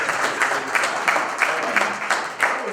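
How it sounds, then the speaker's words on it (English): A room of conference attendees applauds a volunteer: a full round of steady crowd clapping with rhythmic swells, close and lively, with some faint voices underneath. "Give her a hand."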